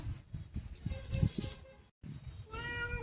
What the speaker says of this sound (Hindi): हमको लगा कौन बिल्ली चिल्लाया